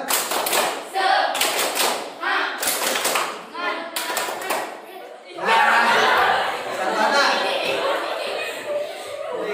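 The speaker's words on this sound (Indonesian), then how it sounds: "Kelompok B tepuk semangat" Pupils in a classroom group clap out a patterned rhythmic chant, several quick claps in bursts, followed by a denser stretch of clapping and chatter, near and loud.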